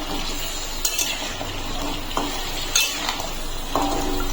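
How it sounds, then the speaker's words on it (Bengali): Pumpkin and potato pieces fry in a pan for a pumpkin curry, giving a steady low sizzle broken by a few spoon stirs and light clinks against the metal. "এখন কুমড়োটা দিয়েও একটু ভেজে নেব"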